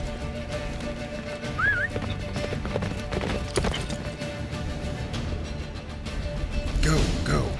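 In The Witcher 3 game, a horse's hooves clip-clop steadily at a gallop under ambient game sound, with a brief whistle and a muffled crash near the end.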